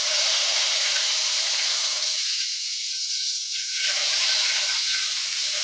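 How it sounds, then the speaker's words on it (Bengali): Whole cumin seeds, half an inch of cinnamon, four cloves and two bay leaves drop into hot oil left from frying rohu fish, giving a loud, continuous close hiss that thins briefly midway before surging back. "আমরা ওই তেলের মধ্যে এবার ফোড়নটা দিয়ে দেবো।"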